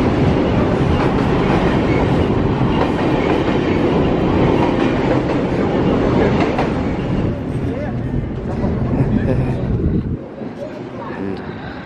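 Loud, close rumble and rattling clatter of a train crossing a railway bridge in Cologne, steady and continuous, easing off slightly near the end.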